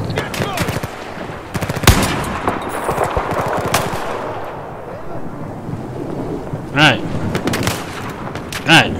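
Battlefield 4 gunfire aboard the USS Valkyrie deck, with loud bursts of automatic fire and sharp reports under heavy battle noise, plus later warbling tonal effects.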